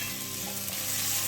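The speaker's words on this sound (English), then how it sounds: "Just going to kind of caramelise this a little bit just to get a bit more flavour in it." Onion, carrots and garlic caramelising in a pan for beef bourguignon give off a steady, dense sizzle with a faint stirring scrape, loud and close with no voices.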